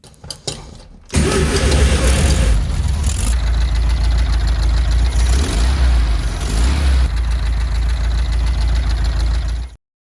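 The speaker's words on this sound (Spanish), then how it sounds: "Y recién en el tercer intento, el motor cobró vida." An old VW Beetle engine, left abandoned in a garage for years, cranks briefly and then fires up loud and close, settling into a rough, continuous running rumble for about nine seconds before it cuts off.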